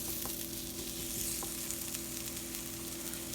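A lentil and walnut burger mixture coated in yeast and flour browns in a pan, sending up a loud, even frying hiss that runs without a break.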